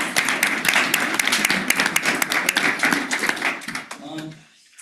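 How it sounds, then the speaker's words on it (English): Round of applause for school sports coaches at a district board meeting, a modest room of hands clapping in irregular bursts with voices mixed in, fading out at the end. "Round of applause for them"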